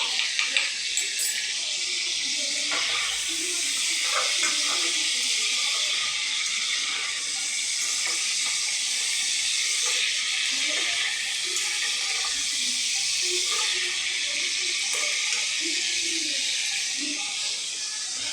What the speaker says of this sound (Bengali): টমেটোগুলো সেদ্ধ হতে সময় লাগে।